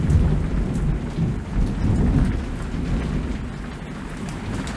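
A thunderstorm from an uncut VHS horror film soundtrack: steady heavy rain with deep rumbling thunder rolling underneath, loud and continuous with no voices.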